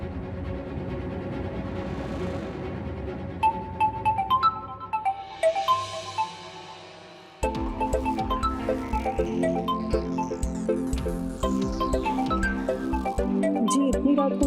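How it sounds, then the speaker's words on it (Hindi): A phone ringtone chimes at night in a repeating melodic pattern with music-like tones, loud and close, pausing briefly midway before ringing again, with no talk over it. "जी इतनी रात को किसका फोन आ रहा है?"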